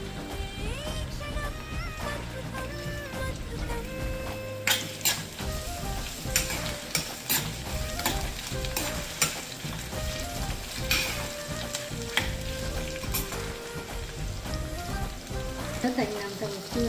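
Washed green chillies fry in a pan with a steady close sizzle, broken by bursts of sharp spitting crackles and stirring, while music plays throughout.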